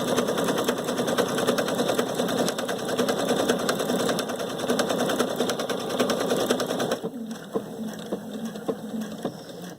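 A Viking Sapphire 930 sewing machine stitches with a braiding foot in a fast, steady mechanical whir and rapid needle patter, close up, easing to a lighter, slower run near the end.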